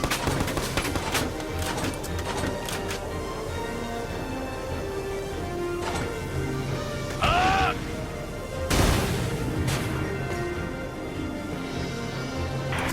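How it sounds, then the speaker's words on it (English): Enemy gunfire in the tactical war game Valkyria Chronicles 4: rapid bursts of shots crackle amid battlefield clatter and a sharp crash, continuing steadily over a dense game soundscape. "The enemy's firing back!"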